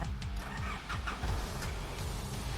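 A 2015 Isuzu D-Max 2.5 Ddi VGS Z Hilander diesel pickup truck engine cranks and catches, then settles into a low, lumpy idle, heard close and fairly quiet.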